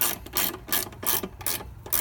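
Wrench lightly snugging the leg shield bolts on a Honda Super Cub 125, a string of quick ratcheting clicks in short bursts with brief pauses between them, close and fairly quiet with no talking.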